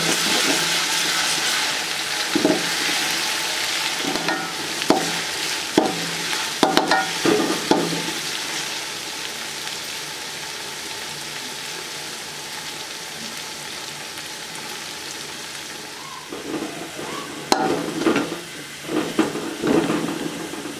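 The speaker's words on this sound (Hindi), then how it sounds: "अदरक लहसुन को अच्छे तरीके से फ्राई करेंगे।" Ginger and garlic fry in a pan after onions, a steady sizzle with scraping stirring strokes throughout, the spoon knocks clustering near the start and end, no voices over it.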